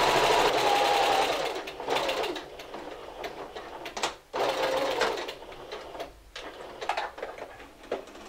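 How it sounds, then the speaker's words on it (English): A home sewing machine runs steadily through fabric while a Simplicity 1562 garment is stitched, a close, continuous mechanical whir that eases off briefly around the middle and then resumes with light ticking. "And continue sewing all the way to the end."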